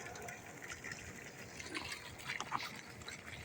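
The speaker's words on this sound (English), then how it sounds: "there is a hydraulic system coming from underground that actually pumping the water" Water from a fountain fed by a pump from underground splashes and gurgles faintly, with light irregular trickling and bubbling.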